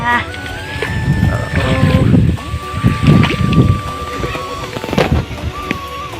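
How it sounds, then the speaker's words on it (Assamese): Strong wind buffets the microphone in rumbling gusts over a muddy paddy field, with voices talking and occasional tonal sounds in the background. "পূৰা বতাহ মাৰি আছে।"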